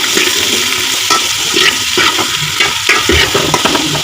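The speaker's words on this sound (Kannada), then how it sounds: "ಸ್ವಲ್ಪ ಅರಿಶಿನ ಪುಡಿ ಹಿಟ್ಟು ಹಾಕಿ ಈಗ ಫ್ರೈ ಮಾಡಿ ಫ್ರೈ ಮಾಡೋಣ" Tomato, turmeric powder and spice paste frying in a pan for a chicken sukka, a loud, close, continuous sizzling hiss with soft stirring knocks throughout.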